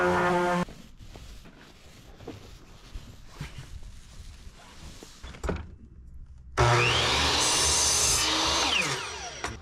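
Wooden lumber boards for van shelves being sanded, scattered scraping strokes followed by a loud, steady power-tool whine after a short pause, close by with no talking.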